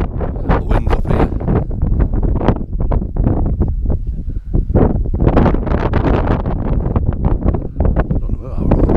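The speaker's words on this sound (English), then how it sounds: "The wind's up here." Strong wind buffeting the microphone on a rocky volcano hike in Lanzarote, loud continuous roaring gusts that swell and dip throughout.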